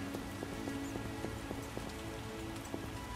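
Rain pours in The Witcher (2007) video game, a steady, soft hiss of drops on surfaces with faint scattered ticks and knocks, heard alone at low level.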